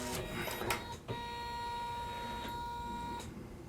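A Janome 9850 sewing and embroidery machine switches to embroidery mode, giving a faint mechanical whir with a few soft clicks and thumps and a steady tone in a quiet room.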